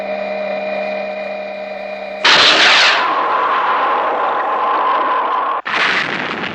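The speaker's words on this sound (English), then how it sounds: "The mining platform! It's being bombarded!" The mining platform is bombarded in the puppet series Stingray: a sudden loud explosive blast cuts through a droning hum and settles into a roaring rumble, then a second sharp blast erupts near the end.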